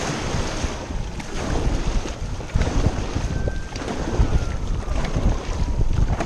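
A dragon boat crew paddles during practice on open water, with rough splashing and rushing water mixed with heavy wind buffeting the microphone, loud and continuous, with no clear voices.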